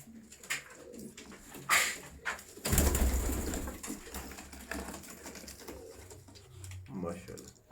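Pigeons cooing in a breeding loft, soft intermittent bird calls with a louder rustling burst midway, heard under people talking nearby.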